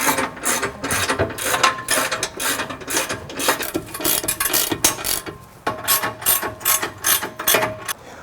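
Rapid ratchet clicking runs in steady bursts as a wrench tightens 21mm and 14mm bumper bolts on a Jeep during an EVO MFG bumper install, loud and close with brief pauses between strokes.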